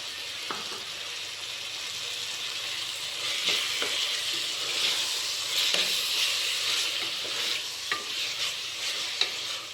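Green peas frying in a pan for tomato bath, a steady close sizzling hiss broken by occasional scraping stir clicks, with no voices.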